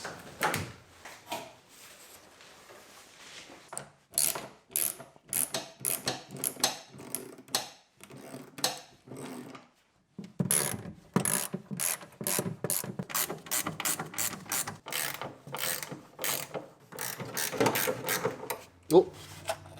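Someone removes the driver's side door and seat of a Caterham Super Seven, making rapid ratcheting bursts and mechanical clicks in irregular clusters, with pauses and occasional talking.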